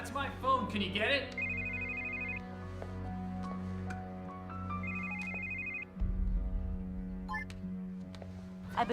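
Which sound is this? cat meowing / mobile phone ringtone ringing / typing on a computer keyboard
mobile phone ringtone ringing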